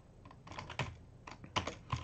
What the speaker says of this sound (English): we're going to type in AWeber